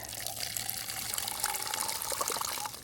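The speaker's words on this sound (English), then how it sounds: "we pour a little bit more water" Water poured from a container into a tomato seedling cup, a continuous close trickling splash of filling liquid, steady and fairly quiet.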